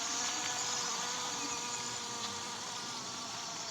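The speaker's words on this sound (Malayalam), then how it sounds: "ഈച്ചയൊക്കെ വന്നിട്ടുണ്ട്" Flies buzz in a steady, continuous drone around a dead creature in the dinosaur survival game Cursed Isle, played on Android. The hum sits quietly and evenly throughout, with no voices.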